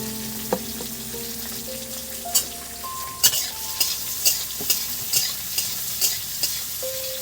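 Finely chopped onions sizzle steadily in a pan, with regular sharp scrapes and clacks of a spatula stirring them every half second or so, close and clear with no talk.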